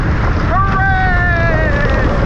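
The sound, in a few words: wind rushing on a roller coaster ride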